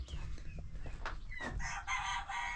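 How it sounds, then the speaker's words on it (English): Chickens in a ranch coop, newly bought at a small animal auction, clucking and squawking close by with a rooster-like crow rising near the end, scattered calls over a quiet farmyard background. "All these new chickens we got at the small animal auction."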